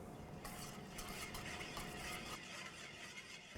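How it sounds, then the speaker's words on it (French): An olive oil marinade with a pinch of salt and pepper is stirred in a bowl, a faint, close scraping and swishing that runs briefly and continuously. "et on mélange"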